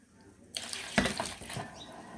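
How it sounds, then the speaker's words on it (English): Water splashes and runs as kudura is washed by hand for a traditional South Sudanese smoked dry fish dish. Close, short bursts of sloshing and pouring, fairly quiet overall. "So now we're going to wash our Kudura"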